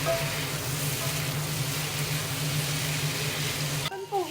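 Chicken sautéing in a pan for a cream stew, with potatoes, gives a steady broadband sizzle throughout, fairly loud and even, that cuts off abruptly near the end.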